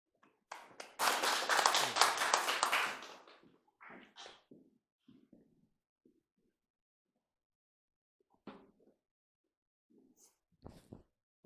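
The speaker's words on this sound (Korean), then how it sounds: "회장님 박수 부탁드리겠습니다" A short burst of clapping from a lecture audience welcoming a speaker, loud for about two seconds and then cut off, followed by a quiet hall with a few scattered soft knocks and shuffles.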